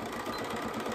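Sewing machine stitching fabric binding for a quilt edge, heard as a brief, steady, close mechanical whir with a fast, even rhythm and no speech.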